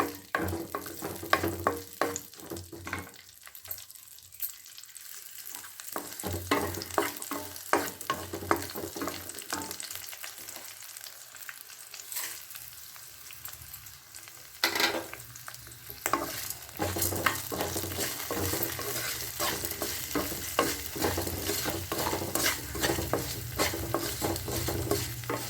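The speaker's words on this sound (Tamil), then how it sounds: "திருப்பியும் நம்ம எண்ணெய் விட்டு ஊறுகாய் தொக்குக்கு வதக்குவோம்" Ground raw mango paste sautéing in oil for pickle thokku, a continuous close sizzle with repeated scraping and stirring strokes of a spoon in the pan.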